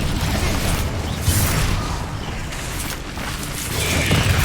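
An Incendio fire spell cast in the video game Hogwarts Legacy gives a sustained roaring, rumbling burst of flame with crackling swells, loud and continuous throughout, with no speech.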